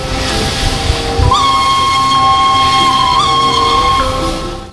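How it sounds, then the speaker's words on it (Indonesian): An old coal-hauling train sounds a long, steady steam whistle that holds for about two seconds, pauses briefly and sounds again, loud and close over a rumbling, hissing rail background. "kereta api batu bara."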